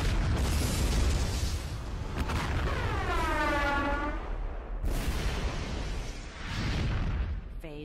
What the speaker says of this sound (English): which set off a massive explosion with the force of 40 atomic bombs.